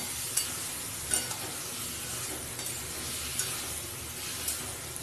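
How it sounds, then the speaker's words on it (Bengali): Ridge gourd, bori and poppy-seed curry is stirred in a pan, giving repeated scraping clicks of the spoon over a steady, close sizzle. "এবার আবারও আমি নাড়াচাড়া করব।"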